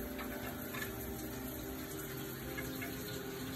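Hot water runs steadily from a shower in a home bathroom, a constant hiss and splash with no breaks, fairly faint and heard alone without speech.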